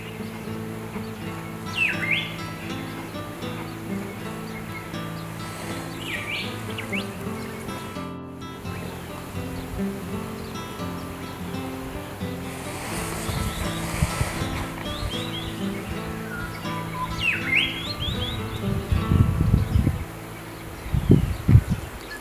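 Birds calling along the bank of the Murray River near Waikerie in South Australia's Riverland: a few faint, separate chirps rise over a steady low hum, with light rustling and no talk.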